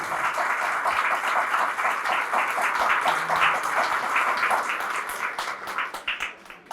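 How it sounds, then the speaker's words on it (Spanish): Congregation applause in a church during a Catholic priest's sermon, a dense, lively burst of many hands clapping that carries on steadily and fades slightly toward the end. "Fuertes aplausos a Jesús"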